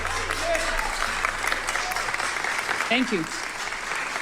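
Audience applause in a played recording, a steady wash of clapping under a voice that speaks briefly near the end.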